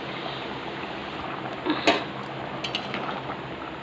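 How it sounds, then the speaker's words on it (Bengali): Kabuli chickpea curry boils in a kadai with a steady bubbling hiss. A brief metallic clink of a utensil against the pan rings out midway, and no one speaks. "এই যে কাবলি ছোলার তরকারি ফুটছে"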